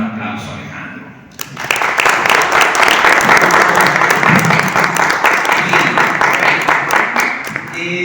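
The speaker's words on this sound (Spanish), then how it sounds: "Vamos a dar un aplauso a Alejandro." An audience at a book launch for a Mexican rock album guide breaks into loud, dense applause after a short stretch of talk, the clapping swelling quickly and holding strong and close until the end.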